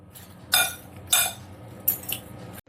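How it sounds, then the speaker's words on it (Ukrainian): Utensils clink and scrape against a bowl while a prosciutto and pear salad is tossed, three or four close, bright clattering strokes with short pauses between. "І все гарненько його ось так перемішуємо."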